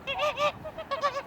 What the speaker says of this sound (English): we have an awful large amount of Canadian geese